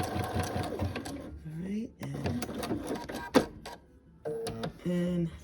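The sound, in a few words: sewing machine test-stitching on zigzag setting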